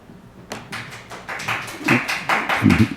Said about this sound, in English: Prefer no clapping, that's true.